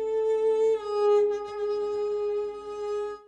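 A short, sustained melodic phrase from the Ethnoworld 6 virtual instrument, one reedy held line that bends slightly in pitch before settling, close and clear with no voices.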